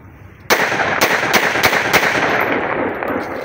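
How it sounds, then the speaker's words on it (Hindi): A single test shot from a 20-shot 30 bore pistol, a sharp loud report followed by several echoing cracks and rumbling reverberation outdoors. "सिंगल फायर कर दिया।"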